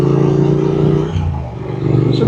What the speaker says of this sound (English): Just listen to that exhaust barbling, it's just beautiful.